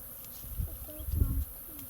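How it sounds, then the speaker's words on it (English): A steady drone of bees near their hive in a baobab tree, close and moderately loud, rising in a couple of thicker buzzing swells before easing off. "The bees are here."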